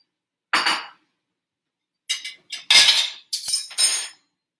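Crumbled Greek feta spooned onto pasta, a few separate short clinks and scrapes of a spoon against a dish, close and fairly loud with silence between them.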